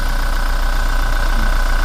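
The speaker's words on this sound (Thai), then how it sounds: "มาลองฟังเสียงเครื่องยนต์กันนิดนึง" A Toyota Revo pickup truck engine idles steadily close by, a constant low rumble with an even mechanical hum and no other sounds.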